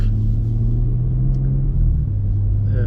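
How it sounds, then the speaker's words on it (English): A brand new BMW M3 Touring xDrive wagon drives with a low, steady engine rumble throughout, continuous and fairly loud with no voices. "today we are driving the brand new BMW M3 Touring X-Drive."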